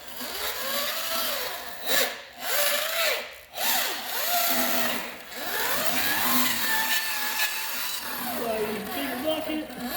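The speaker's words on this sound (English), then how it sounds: "We got the handy dandy drill." A power drill whirs while mixing material in a big bucket, its motor note shifting and rising with load, briefly stopping twice early on before running steadily with a scraping churn.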